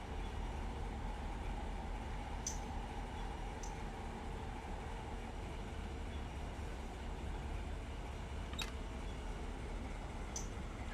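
An ST70-hauled freight train in the Run8 railroad simulator gives a continuous low diesel rumble and steady rolling drone, with a few brief higher clicks and squeaks over the top.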